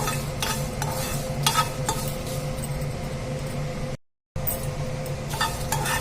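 Dried red chilies fry in a pan with no other ingredients added yet, giving a soft steady sizzle under repeated scraping stirs and light metallic clinks, with a brief gap of silence partway through.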